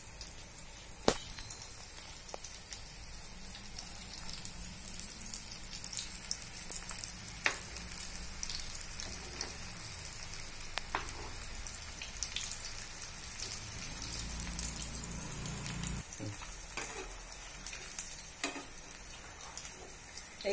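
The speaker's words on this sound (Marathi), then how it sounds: "पॅनमध्ये थोडस तेल खाली घातलेलं आहे, त्याच्यावर आता आपण शॅलो फ्राय करायला" Sweet corn patties shallow fry in a little oil in a pan, giving a steady, soft sizzle with scattered crackles and pops throughout, fairly quiet and without talk.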